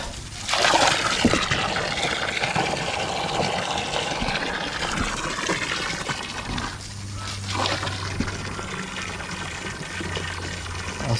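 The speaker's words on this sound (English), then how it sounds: "We gotta refill the water here." Water gushing steadily into a livestock trough on a farm, a continuous close splashing fill that runs throughout with small shifts in flow and a low background hum.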